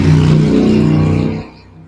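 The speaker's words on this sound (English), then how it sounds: "I like how that came in with the motorcycle." A motorcycle passing close by, loud at first with a steady low engine drone, then fading off quickly after about a second and a half.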